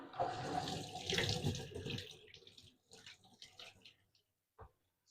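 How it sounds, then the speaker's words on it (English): Warm water runs from an indoor faucet into a sink, a loud steady gush for about two seconds that thins to trickles and drips before a final splash. "I want to use the the faucet here because I can get warm water instead of just the cold water"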